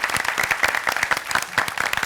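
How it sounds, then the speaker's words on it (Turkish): Studio audience applause on a Turkish TV word game show, a steady wash of many hands clapping that holds throughout at close range, with no voices over it. "Alkışlıyorum sizleri"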